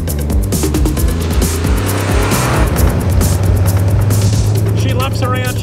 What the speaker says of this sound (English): She lumps around, she bumps around. She's not a smooth ride when it comes to the engine